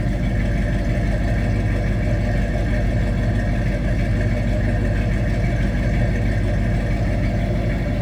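A 1967 Ford Mustang GT Fastback with a 390 V8 idles steadily and loudly up close, a deep, even rumble with a fast throbbing pulse that holds constant throughout without revving.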